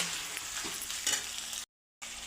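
Minced mutton and ground green chillies fry in masala in a pan, a soft continuous sizzle with occasional stirring scrapes, briefly cut to silence near the end.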